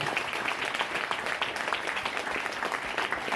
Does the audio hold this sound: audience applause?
yes